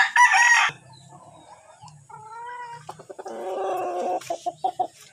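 Loud, bright squawks open, followed by sharp bird calls and a long drawn-out crow, then a run of short, punchy clucks, all up close.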